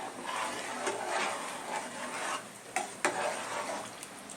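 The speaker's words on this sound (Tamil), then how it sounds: "நம்ம வந்து கிண்டிட்டு ஒரு மூடி போட்டு மூடி விட்டுடலாங்க" Chicken biryani rice being stirred in a pot, a steady scraping and rubbing of the spoon against the metal with a couple of sharper knocks near the end, close and fairly quiet, with no talking.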